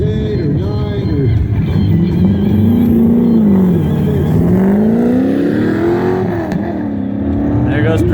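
A Pro Touring truck on an autocross lap, its engine loud and close, revving up and down in sweeping waves, with a voice commenting over it.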